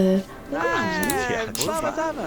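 Cat meows in a life-simulation shop game, a string of short whining calls that rise and fall, loud and close, with a voice speaking between them.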